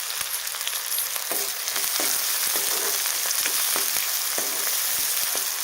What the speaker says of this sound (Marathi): आणि कांदा छान आपल्याला परतून घ्यायचा